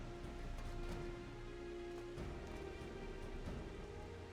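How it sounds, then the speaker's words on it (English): Rain falls steadily on the Wolf's Den Pier map in a video game, a continuous hiss at even loudness with a low ambient hum underneath, and no talking. "It is raining at the Wolf's Den Pier."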